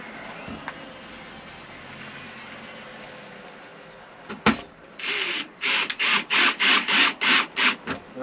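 Screws are driven in while a sink is fitted into a Sprinter van. A quiet scrape and a sharp knock come first, then a rapid run of about ten close, rhythmic ratcheting bursts as the screws tighten.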